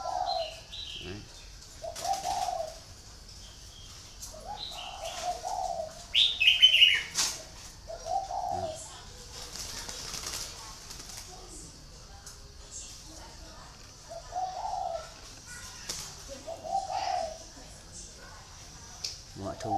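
Red-whiskered bulbul (chào mào), a wild-caught decoy bird, giving short repeated calls at intervals, fairly close, with bits of other bird chirps and faint background noise between phrases.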